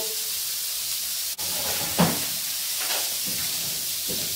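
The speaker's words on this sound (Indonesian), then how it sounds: "jadi cabai, bawang merah, bawang putih ditumis." Chili, shallots and garlic sautéing in a pan for beef tongseng, a steady bright sizzle and hiss with a few soft stirring scrapes and one brief knock.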